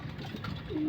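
Pet racing pigeons give a brief, soft low coo nearby, a single short call under a faint background murmur.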